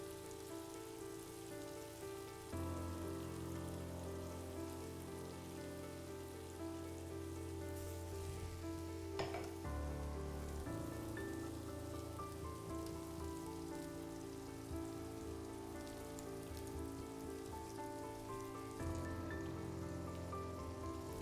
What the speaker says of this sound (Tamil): இப்போ இந்த ஸ்டேஜில் நம்ம அரைச்சி வச்சிருக்க மசாலா சேர்க்க போகிறோம்.